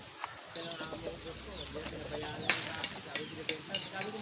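Food frying in a pan with a steady sizzle under repeated scraping clicks of a utensil stirring, while a person talks in the background.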